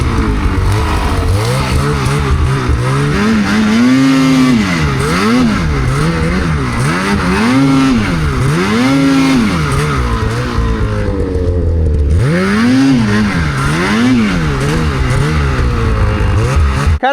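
A snowmobile engine revs repeatedly in deep snow in avalanche-prone backcountry, loud and near, its pitch climbing and falling in a series of rhythmic surges with a brief lull before revving again.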